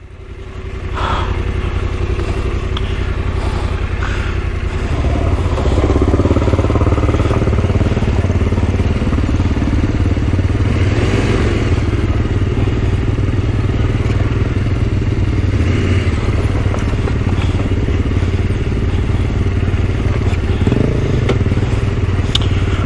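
Several adventure motorcycles idling together while being lined up for a group photo, a loud steady rumbling engine drone close by, with occasional clatter and thumps over it.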